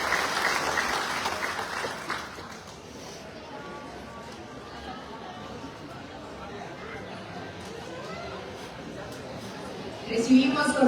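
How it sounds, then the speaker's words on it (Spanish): An audience at an indigenous and Afro-Mexican recognition ceremony bursts into loud applause for about two seconds, then quiets to murmuring before clapping swells again at the end. "Recibimos con fuertes aplausos"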